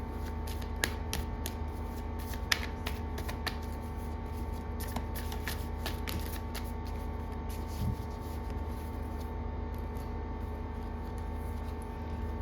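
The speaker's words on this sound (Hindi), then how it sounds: "मैं कुछ फिर से शफल करके कुछ कार्ड्स निकालूंगी" Tarot cards shuffled by hand in a steady run of soft riffling flutters and taps, close up over a constant low hum, with no talking.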